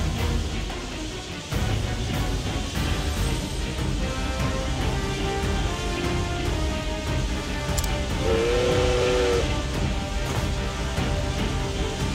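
Steam tank Obsidian in the video game Octopath Traveler II, heard as a rumbling mechanical din with a brief steam-whistle-like tone near the end, no talk.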